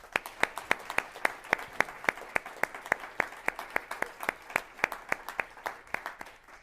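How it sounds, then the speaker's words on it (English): A debate audience claps for Democratic U.S. Senate primary candidates in Ohio, a moderate run of sharp, evenly spaced claps that holds steady before tapering off. "we'll have a round of applause for both of our candidates."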